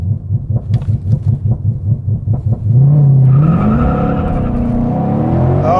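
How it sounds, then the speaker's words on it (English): A Ford Mustang Shelby GT500 at a drag racing launch: loud rhythmic engine revs pulse for a few seconds, then the engine surges into a sustained full-throttle roar with tire squeal, climbing in pitch as the car accelerates hard. "All right, item 1, drag racing."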